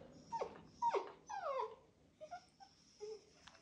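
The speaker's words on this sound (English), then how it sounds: "Does anyone else's dog do this weird thing when they get a treat?" A dog that has just been given a treat whimpers and makes yipping, growling little noises, a run of high, whiny cries that fade in and out. It is fairly faint and there is no talking over it.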